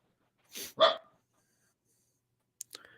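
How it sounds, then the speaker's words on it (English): A dog gives two quick barks close by, followed after a pause by a short, sharp yip and a brief trailing whine, set against silence. "Who let the dogs out?"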